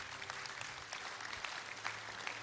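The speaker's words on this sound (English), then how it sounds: "Thank you, church. Don't stop clapping." A church congregation applauds during an Easter Sunday service, steady dense clapping from a large crowd, fairly faint and distant with a low rumble underneath.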